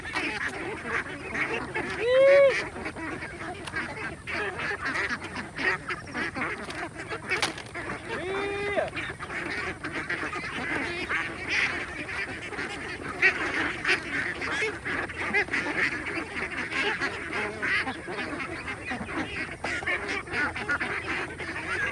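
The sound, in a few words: free-range ducks quacking while eating bran and corn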